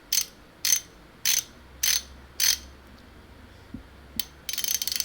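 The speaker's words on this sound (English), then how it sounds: "I carry around a half-inch socket wrench" A half-inch socket wrench ratchets in five short, evenly spaced clicking bursts, close and crisp, followed by a faint tap or two and a final quick rattling run of clicks.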